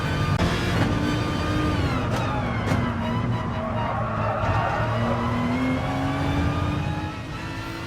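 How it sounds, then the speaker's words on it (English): In a racing video game at Bathurst at night, a race car engine drones and strains at high revs with a wavering pitch, loud and close, easing off slightly near the end. "We just left the volume up so you could hear the engine labour"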